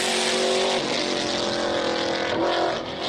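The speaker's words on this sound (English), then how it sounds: "And the 350Z is going." A Nissan 350Z race car accelerates hard off the line at a hill climb, its engine note loud and sustained with rising pitch as it shifts up and pulls away.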